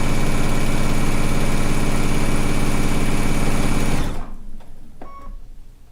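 An embroidery machine stitches steadily with matte, low-gloss thread in a loud, continuous mechanical drone, then stops abruptly near the end, leaving quieter room noise and a few faint clicks.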